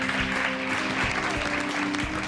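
A studio audience claps steadily on a Pakistani morning TV show, giving a continuous, even patter of hands over faint background hum and murmur.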